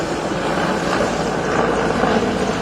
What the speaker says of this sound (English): you can see the live feed of the immediate reaction report from the MI-70 helicopter as it